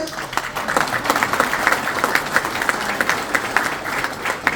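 A crowd applauds at a talk, with dense, steady clapping that stays loud throughout without a break.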